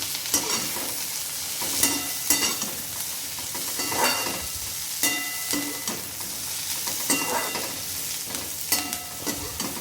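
Onion and tomato sautéing in a pan for a chutney, a steady close sizzle with repeated scraping stirs of a spoon through the mixture, no voices.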